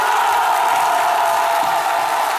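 Studio audience at a midday television show cheering and applauding in a steady, loud wash of crowd noise with no pauses.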